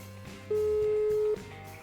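A single steady telephone ringback tone sounds for almost a second while a prank call is placed, standing clearly above faint background noise.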